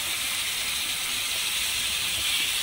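Garlic-ginger paste hisses loudly and evenly in a hot pan, a steady close sizzle for chicken lasagna filling, with no talk over it.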